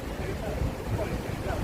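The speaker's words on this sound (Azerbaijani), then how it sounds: "Yaxşı külək var." Wind blows across the Dubai Marina waterfront by the beach on a May evening, a steady, fairly loud broadband rush and rumble with no clear gusts, continuous for the whole moment.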